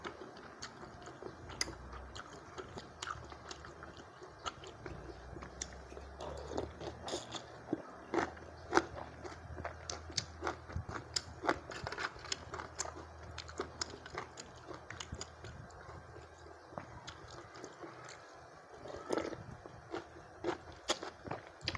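Someone eating noodle soup with crispy fried wontons, heard as faint, close crunching bites and chewing with scattered clicks and small clatters over a long quiet stretch, without talk.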